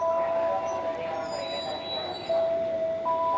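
Commuter rail station ambience at Tanah Abang station in central Jakarta, with a steady hum, faint metallic squeal tones and a high whine over a continuous murmur of background activity.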